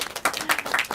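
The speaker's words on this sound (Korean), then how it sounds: "박수 부탁드립니다." Short burst of close audience clapping at a Korean film screening Q&A, greeting two film directors, with individual claps distinct and uneven.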